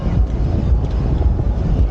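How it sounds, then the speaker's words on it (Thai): Strong wind at an outdoor food festival market in Bangkok, a loud constant low rumble of gusts buffeting the microphone with no break, dense and steady throughout. "ลมแรงมาก เหมือนจะมีฝนอ่ะ"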